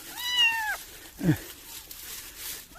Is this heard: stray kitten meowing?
yes